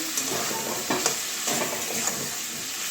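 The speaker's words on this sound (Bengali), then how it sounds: "এবারে ধুয়ে রাখা কুমড়োটা দিয়ে দিচ্ছি" Washed pumpkin pieces go into spices frying in oil in a pan, giving a steady close sizzle with a few soft stirring scrapes and light clinks, with no talking.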